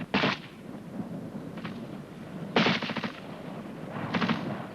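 Distant small-arms fire on a section fire-and-manoeuvre exercise, heard as separate sharp cracks each followed by a duller thump, in three or four bursts, some rattling like short automatic strings, with no voices.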